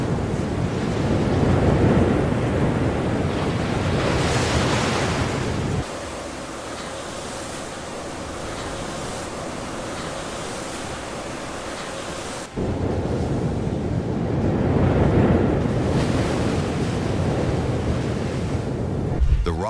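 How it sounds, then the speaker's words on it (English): Heavy open-ocean surf pounds the base of a sheer sea rock under strong, gusting wind, a continuous loud roar of breaking water and buffeting wind that swells, eases briefly, then surges again. "Waves pound its base day and night. The winds tear across its cliffs with hurricane strength."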